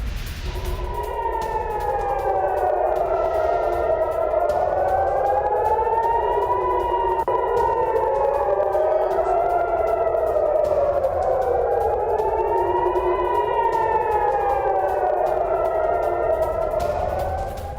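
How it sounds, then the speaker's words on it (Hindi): An air raid alert siren in Tel Aviv wails steadily, rising and falling in long slow cycles, loud and continuous with no voices. "तेल अवीव में लगातार एयर रेड अलर्ट सायरन बज रहे हैं"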